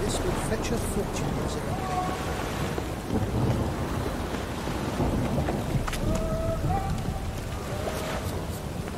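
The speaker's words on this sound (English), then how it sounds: "Must be mad running around in this rain." Rain and thunder in the video game The Witcher 3, a steady wash of rainfall with low rumbling, scattered higher tones, and a voice speaking over it.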